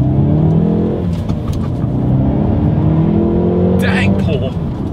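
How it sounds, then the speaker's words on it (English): A 2020 Hyundai Veloster N accelerates hard on a highway from a rolling start, its engine note droning and climbing steadily from inside the cabin, with talk over the top and a brief higher whine near the end. "We'll do a quick little acceleration here, see how quickly we can get the new 2020 Veloster N here up to speed."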